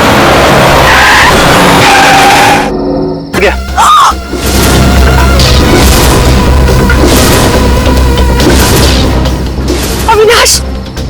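A car driven by a drunk driver skids and crashes in a TV crime drama: loud tire screeches, a sharp impact boom, then continuing chaotic skidding and crashing noise over dramatic music.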